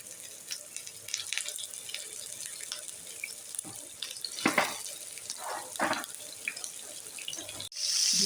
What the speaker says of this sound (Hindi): ऑयल हमारा गर्म हो गया है। इसमें हम मीट बॉल जो है वो वन बाई वन करके डालते जाएंगे।